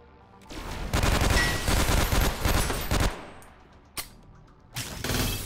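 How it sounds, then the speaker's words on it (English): Turret machine gun fire in the video game Synthetik: a loud, dense rapid-fire burst of about two seconds, then a single sharp shot and the start of another burst. "I just fucking dropped a turret and annihilated them with a machine gun."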